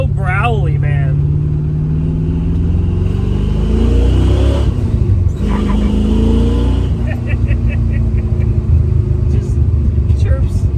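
A 1969 Ford Mustang's engine growls with a deep, close rumble while driving, rising and falling as it revs through gears, with someone talking over it inside the car.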